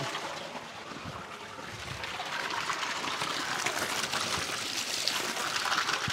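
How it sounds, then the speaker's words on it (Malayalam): Water rushing out during a backwash of a home iron-removal water filter, flushing dirty water; a steady, close gushing and splashing flow that grows slightly louder partway through, with no talk. "ഞാനൊന്ന് ബാക്ക് വാഷ് കാണിച്ചു തരാം. ഇതുണ്ട്, അഴുക്ക് പോകുന്നുണ്ടോ?"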